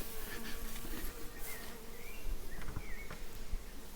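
A steady, dense buzzing of many Carniolan honeybees close by during a hive inspection, continuous throughout with no talking.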